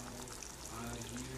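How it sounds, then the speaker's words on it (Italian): Water poured from a container into a pan of white bolognese sauce gives a soft, steady gurgling pour, faint and close, with a low hum underneath. "aggiungo un po' d'acqua"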